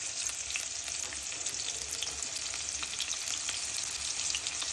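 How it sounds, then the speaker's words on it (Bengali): Chopped onion hits hot oil in a pan and sizzles steadily, a dense, close crackling hiss with no talking. "তেল গরম হয়েছে, দিয়ে দিব পেঁয়াজ কুচি,"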